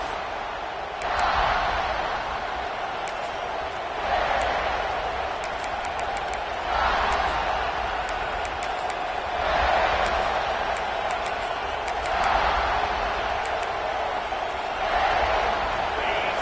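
Stadium crowd in an NCAA 26 football video game, a sustained roar with rhythmic swells every few seconds, under steady commentator talk.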